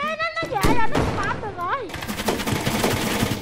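Pistol gunfire in the video game Brick Rigs, several sharp shots in quick succession mixed with game sounds, with a voice talking over the shots.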